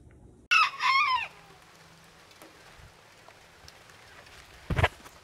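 Rooster crowing loudly and close in the morning, a single drawn-out crow near the start, followed by quiet ambience and a short burst of clucking from chickens near the end.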